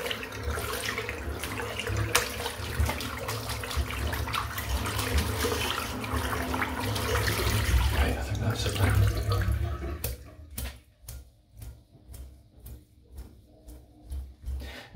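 Tap water runs steadily while a shaving brush is rinsed under it for about ten seconds, then the flow stops and a string of sharp splashes and drips follows.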